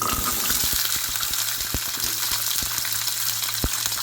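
Small shallots fry in a little oil for chutney, making a dense, continuous hiss with scattered crackles and pops, close and loud throughout, without speech.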